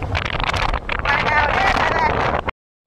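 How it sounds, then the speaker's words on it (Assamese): Strong wind buffets the microphone outdoors in a loud, continuous roar, with gusty rumble and rustling, before cutting off abruptly near the end. "এতিয়া মানে পুৰা বতাহ দিছে বতাহ"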